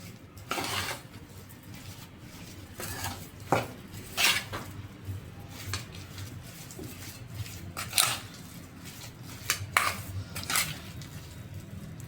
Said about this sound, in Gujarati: હવે બધું બરાબર મિક્સિંગ કરી લેશું